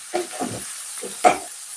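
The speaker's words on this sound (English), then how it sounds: "I'm sauteing off the onion and the cabbage and all this" Onion and cabbage sautéing in a pan, with steady sizzle under four short scraping stirs of a utensil against the pan.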